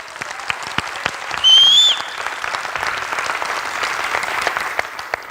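Applause at a business presentation, dense, steady clapping that swells briefly, then continues at a moderate level throughout.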